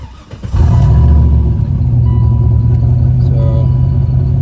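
A BMW 740iL engine cranks briefly, then catches and settles into a loud, steady, rumbling idle close by, with no voices over it.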